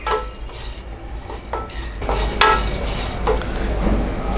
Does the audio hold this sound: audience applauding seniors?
no